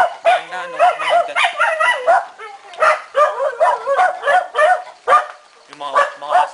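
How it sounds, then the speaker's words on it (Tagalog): Several dogs bark and yip in rapid, repeated bursts, loud and close, with short pauses between volleys and a few whimpering tones. "Yung mga aso niyan, maingay pa."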